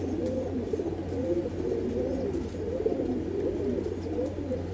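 Pigeons kept for sale in Bangalore coo steadily and rhythmically, with soft repeated throaty calls overlapping at close range and no talk.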